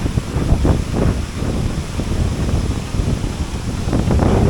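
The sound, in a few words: strong wind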